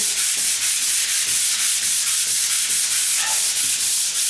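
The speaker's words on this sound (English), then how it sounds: "I'm just lightly going to make that rough sandpaper just a hair smoother." Steady rhythmic hand sanding of a door with sandpaper, close and continuous, with quick repeated strokes forming an even scratchy rasp and no talking.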